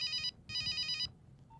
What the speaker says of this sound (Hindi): विकी, फोन बज रहा